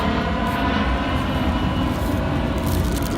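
A fixed-wing airplane passes overhead outdoors after dinner at a Red Lobster, its engine a loud, continuous roar filling the whole stretch with no talk over it.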